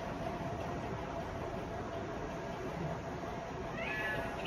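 A common myna near a Brahminy starling nest imitates a cat's meow: one short, rising, wailing call near the end, over a steady, noisy outdoor background.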